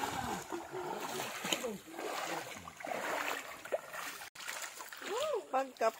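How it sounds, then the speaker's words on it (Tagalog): Someone wading through water on a vacation outing, intermittent splashes and sloshing, close, under frequent chatter and calls from several people. "Nagbaktas-baktas sa tubig."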